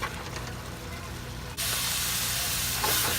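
A pot of Liberian collard greens with pepper and onion cooks with a steady hiss. Halfway through, the sizzle jumps suddenly louder and brighter, then holds there.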